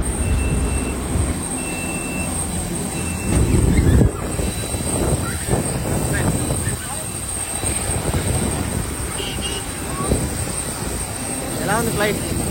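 A Star Air airplane's engine roars steadily near the aircraft at the airport, a loud continuous drone with a high whine, while people talk nearby.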